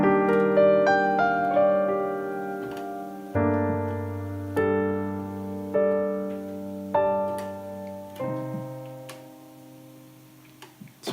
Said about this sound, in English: this is a Bright Grand, so you can hear when you play harder, it gets really, really bright